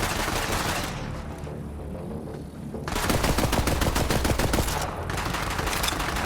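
Starter gun firing in Borderlands 3, rapid bursts of loud close automatic gunfire, a burst at the start, a pause, then a longer rattling volley and a shorter one, with no talk.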